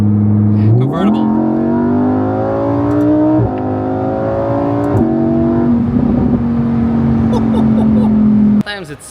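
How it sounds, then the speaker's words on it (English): Lamborghini Huracan convertible driving in Dubai, its engine holding a loud, steady drone that rises through several shifts in pitch as it accelerates, heard from inside the car, with a voice talking over it. "I'm driving a freaking Lamborghini in Dubai"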